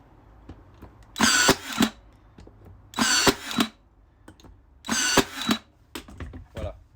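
Ryobi One+ R18N16G cordless nailer driving nails into wood: three loud, close whirring bursts spaced about two seconds apart, each with a sharp firing snap, with quiet clicks and handling noise between them.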